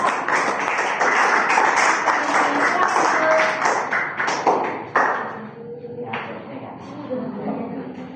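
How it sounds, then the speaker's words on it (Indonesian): An audience of students or teachers claps for a presenting group at a teacher-training session, a dense burst of hand claps that thins out and fades, with voices mixed in. "tepuk tangan untuk kelompok"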